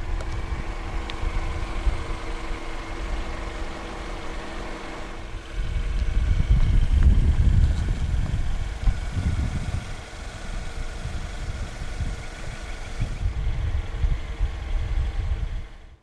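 A 2013 Toyota Corolla Altis 1.8 E, front-wheel-drive sedan, idles steadily with a low even hum, a louder surge midway as the engine catches and revs briefly before settling back to a smooth idle.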